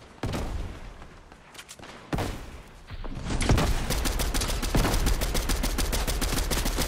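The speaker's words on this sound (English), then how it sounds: "this team up there is shooting at us" Enemy gunfire in Fortnite, rapid automatic bursts that start sporadic and build into sustained, loud rattling fire.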